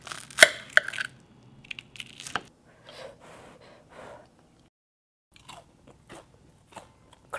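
Close crunchy bites and chewing of a fried Korean pork cutlet, several sharp crackling bursts followed by quieter munching, with a gasp near the start and pauses between.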